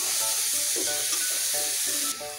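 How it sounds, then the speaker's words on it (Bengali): Lentils (dal) fry in a pan with a steady, soft sizzle and hiss throughout, fairly quiet and close, with no voices over it. "ডাল ভাজি তারপর"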